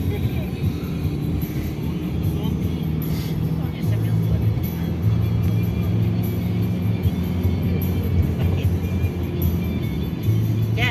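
A car drives along a town street, its steady low engine and road rumble continuous throughout, with a voice speaking over the drive.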